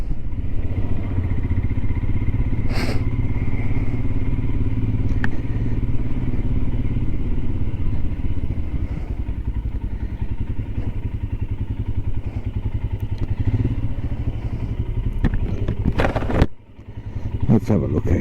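Royal Enfield Himalayan motorcycle riding through town streets, steady engine drone and road noise throughout, briefly dipping near the end before resuming, with occasional clatter and a voice talking over it.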